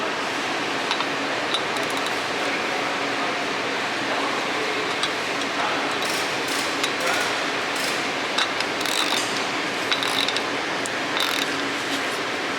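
A ratchet clicks rapidly and continuously while bolts on an aluminum engine skid plate of an Audi S5 are tightened, with metallic tool ticks over a broad steady background hiss.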